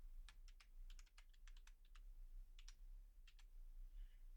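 Typing Python code on a computer keyboard, quick bursts of light, crisp key clicks in clusters with short pauses, faint and close over a low hum.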